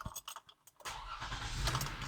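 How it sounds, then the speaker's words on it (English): A van's engine is cranked and catches after a short pause, then settles into a steady idle heard up close, with no talking. "start the engine"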